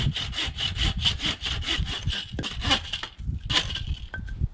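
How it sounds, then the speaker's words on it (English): Hand saw cutting firewood clamped between two trees in boreal forest, a steady, close rhythm of rasping back-and-forth strokes, quickening slightly toward the end. "there's no shortage of firewood here. I just got to cut it and make sure it's dry."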